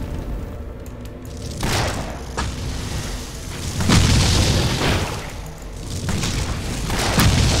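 Explosion shot blasts in the action RPG Torchlight while fighting swarms of spiders in a crypt dungeon, loud booming bursts that swell and overlap continuously with no pauses, dense and close.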